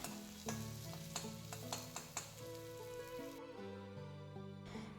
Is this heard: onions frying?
yes